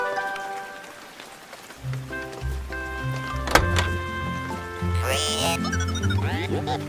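Rain begins falling in a children's cartoon as robots shelter in their van on a farm, a steady patter over musical score with a few thunks and whooshing effects.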